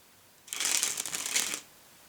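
Playing cards spring from one hand to the other in a flourish, a dense, crisp fluttering riffle that lasts about a second, sounds close and stands alone.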